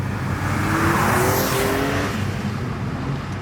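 A loud Porsche 911 Turbo S (992) engine and exhaust roar steadily with the exhaust flaps open, a rising tonal drone as the engine revs, rough and raspy throughout.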